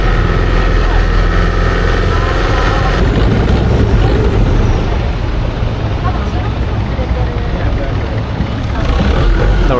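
A tour boat engine drones loudly and steadily up close off Koh Phi Phi, with rushing wind and water noise and voices talking faintly underneath.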